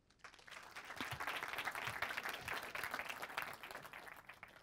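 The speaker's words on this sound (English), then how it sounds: "Let's have a round of applause for Ant." A conference audience breaks into applause for a speaker on cloud native machine learning, clapping swelling quickly into a dense, even roar and then easing slightly near the end.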